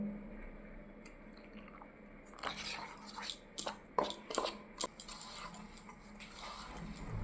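Rice flour dough with a pinch of salt is worked by hand with boiling hot water, giving soft wet squishes and sticky slaps that grow into a steady irregular rhythm after a quiet start, close by.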